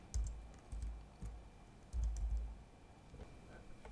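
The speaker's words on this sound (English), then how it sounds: "So let me type this down really quick." Fingers tap quickly on a computer keyboard, a soft, close run of uneven keystrokes with a couple of heavier clusters.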